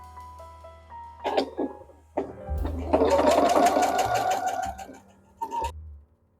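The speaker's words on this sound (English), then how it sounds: "so now we're going to stitch it" A sewing machine fitted with a twin needle sews a hem in short starts and stops. A denser burst of rapid stitching runs for about two seconds in the middle, close and clear.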